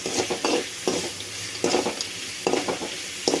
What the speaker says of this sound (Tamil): வாங்க எண்ணெயில் போட்டு பொரிச்சிடலாம்